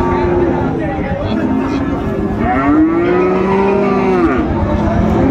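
Friesian and cross-breed bull calves at a busy Dinajpur cattle market, with a drawn-out low moo rising and falling over constant crowd chatter and voices nearby.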